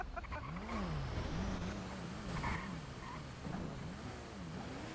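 A loud truck engine droning in a NoPixel GTA roleplay game, revving up and down in smooth swells with a rumbling low hum, continuous and close, no talking.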